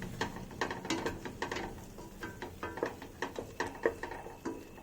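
A spoon stirs chili powder and coriander powder through a dry masala in a pan for rajma, making quick rhythmic scraping and clicking strokes, close and fairly quiet.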